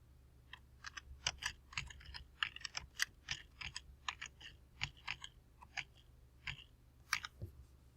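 Quick, light keystrokes on a computer keyboard while entering a program comment in CAM milling software, a close, fairly faint run of irregular taps with short pauses and no talk.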